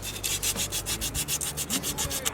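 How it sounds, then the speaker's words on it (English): An engine part, with a cylinder and journal, is rubbed back and forth with a piece of wet sandpaper. About fifteen quick, even scrubbing strokes are heard close up, a steady rhythmic rasp with no talk. "polish him up here a little bit with this piece of wet sandpaper"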